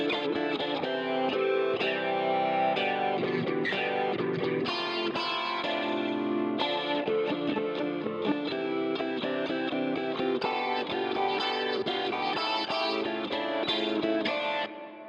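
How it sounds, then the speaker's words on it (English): A multi-voicer vocal effect on a music track produces thick layered harmonies and dense chorused tones, heard as continuous loud processed music with no talking. "So back to here with the multi-voicer on,"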